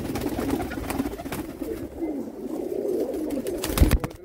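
Several pigeons offered for sale in Jammu keep up a soft, low cooing drone, close and continuous, with a brief louder bump near the end and no voices over it.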